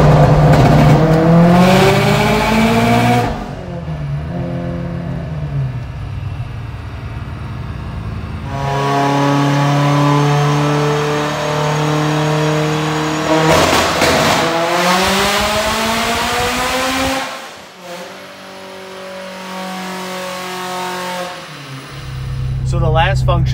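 A 900hp Subaru STI with a MoTeC ECU and turbo holds high revs on launch control, then launches hard with loud, rising engine howls and gear changes, close and dominant, with brief gaps between pulls.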